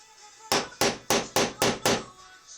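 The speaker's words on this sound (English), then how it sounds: "I'm using a bolt for a punch" A hammer strikes a bolt used as a punch on model railroad track, six sharp metallic blows in an even rhythm, loud and close, each ringing briefly before the next.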